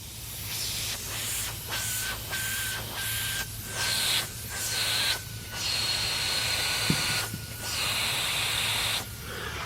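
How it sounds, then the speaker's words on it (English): Soapy water is sprayed onto a leaking fitting, producing steady hissing with repeated short bursts of spray, broken by brief gaps, fairly faint over a constant low background hum. "let me go ahead and spray some soapy water on there and show you guys"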